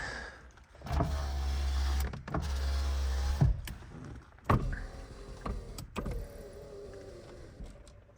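The electric power windows of a 1981 Mercedes-Benz 300TD whir up and down in several separate motor runs, each ending in a sharp clunk as the glass seats. The sound is close and clear with no talk.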